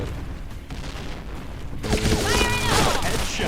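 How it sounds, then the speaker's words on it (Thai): In the video game Point Blank, a dull blast gives way to a dense, roaring stretch of rapid gunfire and crackling, loud and continuous like a game battle. "ระเบิด"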